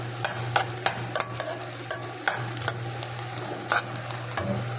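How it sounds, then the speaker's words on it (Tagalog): Ground meat frying in a pan, stirred with a utensil that scrapes and taps in repeated sharp strokes over a steady low sizzle, close and fairly quiet, no talking. "Halo-haloin lang natin siya"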